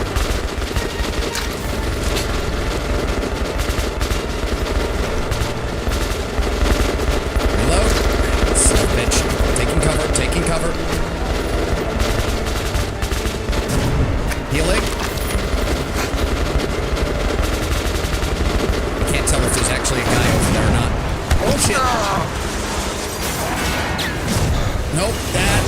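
Sustained automatic gunfire rattles through a Metro video game battle, dense bursts of shots layered almost nonstop over the whole stretch with occasional louder cracks and crashes.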